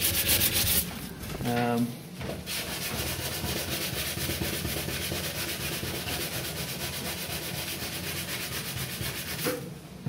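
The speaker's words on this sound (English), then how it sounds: "Sand the area with some, this is about 220, that's probably fine." Sandpaper of about 220 grit rubbed over a ding on a kiteboard, a steady close, loud scratchy rasping that runs almost continuously after a brief knock and pause near the start.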